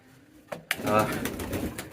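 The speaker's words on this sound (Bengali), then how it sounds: "আগে আমরা কবুতরগুলো দেখি" Pigeons coo at a pigeon market, a short burst of soft bird calls rising after a brief quiet start, with background voices and market bustle around them.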